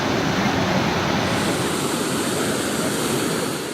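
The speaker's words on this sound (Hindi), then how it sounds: "नदी से लेकर बरसाती नालों तक सिर्फ यही हाहाकारी आवाज सुनाई दे रही है" Roaring floodwater from rain-swollen rivers and drains during heavy monsoon flooding in India, a loud, continuous broadband rush of churning water that holds steady throughout with no pauses and no voices.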